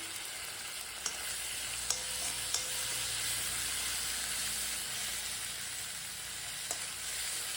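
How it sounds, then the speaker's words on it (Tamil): Tomatoes sauté in a pan over softened onions for masala sambar, giving a steady close sizzle with a few sharp clinks of a spoon against the pan. "தக்காளி வதங்கட்டும்."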